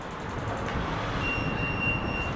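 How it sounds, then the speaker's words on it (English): An Arduino-controlled model metro train rolls along its rails with a soft, steady rumble that stays faint throughout, accompanied by a thin high whine. "as we press enter, the train starts moving"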